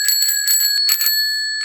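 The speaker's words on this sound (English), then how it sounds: "This one is a bike bell." A bicycle bell made for the handlebars rings in quick bright dings, close and loud, leaving a clear metallic ring that fades out alone.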